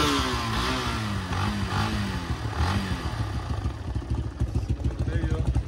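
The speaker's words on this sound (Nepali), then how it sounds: "सो केडा बाइक स्टार्ट गर्न लागेको" A Yamaha motorcycle engine turning over and settling into a steady idle, with a rapid pulsing rhythm close by, and someone talking over the engine throughout.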